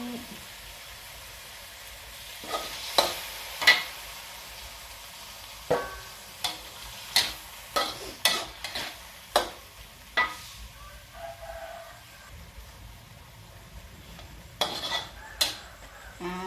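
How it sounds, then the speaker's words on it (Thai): Pork and Thai cabbage stirred in a frying pan, with a spatula clinking and scraping against the metal in scattered sharp knocks over a faint sizzle, close by. A voice speaks softly now and then. "คล้าให้เข้ากันก่อนนะคะ ให้เข้ากับเนื้อก่อนนะคะ กับหมูนะคะ"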